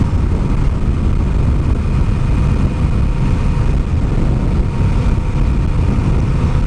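A Honda Rebel 1100 motorcycle engine gives a steady, deep rumble throughout, close and fairly loud, with no talking over it.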